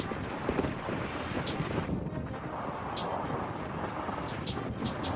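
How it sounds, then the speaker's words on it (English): Gusting outdoor wind buffets the microphone in a steady, roaring rush of low rumble and hiss for several seconds, with no voices over it. "Would you paint in this kind of wind?"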